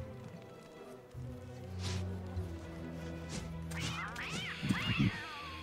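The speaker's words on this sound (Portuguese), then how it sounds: "Tem outro gato aqui" Cats meowing and yowling in the video game Don't Starve Together, several drawn-out cries and a caterwauling wail over faint game ambience, with soft thumps near the end.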